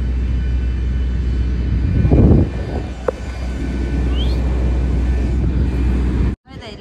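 An airplane sits just after landing at Brussels airport, with a loud steady engine rumble heard from inside the cabin, a brief louder swell midway, and the sound cutting off abruptly near the end.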